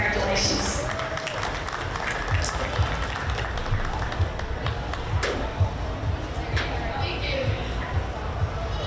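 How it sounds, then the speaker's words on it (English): An audience applauds at a junior market goat show: continuous, fairly even clapping and crowd noise fill an arena, with a person talking over it. "Let's give these young ladies a round of applause."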